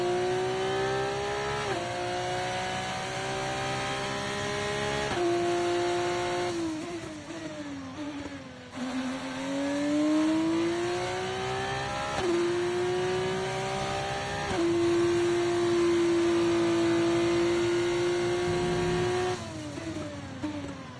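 An F2 race car engine in the video game F1 24 revs and shifts through gears repeatedly, loud rising whines broken by brief drops between upshifts, continuous with no talk.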